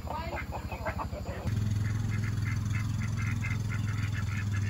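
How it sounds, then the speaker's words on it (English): Ducks and chickens on a North Carolina farm quack repeatedly in a busy flock, with some clucking mixed in, then a steady low hum rises under the continuing calls. "We got some more ducks and chickens up in here."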